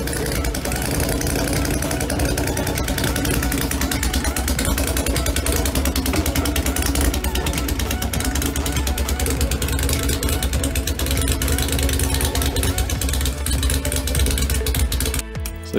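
A Yamaha Virago cafe racer motorcycle engine runs with zero valves, a loud, steady, rough idle with rapid knocking pulses that continues without a break and cuts off at the very end.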